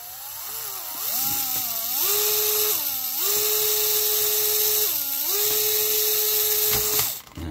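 Small electric drill boring tiny holes in a Round2 USS Enterprise-C plastic model kit, a steady high whine that dips and rises in pitch as the load changes, running continuously and close up with no talk.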